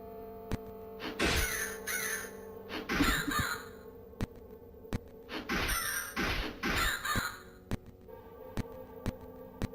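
Crows caw in the horror video game House of Necrosis, set in a mansion: loud harsh calls in quick clusters of two or three, separated by pauses and sharp clicking knocks.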